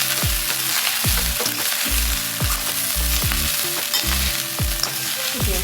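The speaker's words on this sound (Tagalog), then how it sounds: "Tapos halu-haluin mo lang para ma-mix na maayos yung ghee." A rice mixture is stirred with ghee in a hot pan: loud, constant sizzling broken by repeated low knocks and scrapes of the spoon at an uneven, roughly half-second rhythm.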